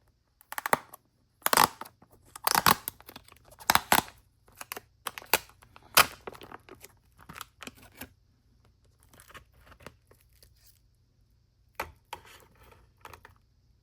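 A new SRAM Force bike chain taken out of its packaging, heard as scattered sharp clicks, rustles and tearing snaps of box and plastic, close and intermittent with quiet gaps, no one speaking.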